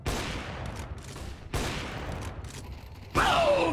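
Several gunshots in CS:GO, the video game, ring out in three loud bursts about a second and a half apart, each with a sharp crack and a decaying tail, the last one heavier and closer.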